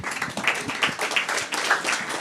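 A small crowd claps together in a brief burst of applause, steady and fairly close, with no talking over it.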